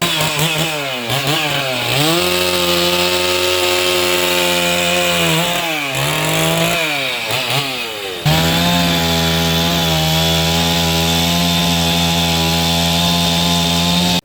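A chainsaw runs loud and steady as firefighters cut through a large fallen tree near a ground in Fort Kochi. The engine pitch rises and dips with the load, has a short break near the middle and is heard up close without speech.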